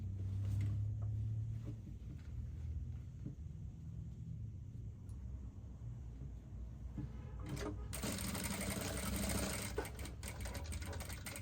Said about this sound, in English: then you continue stitching till you get to this line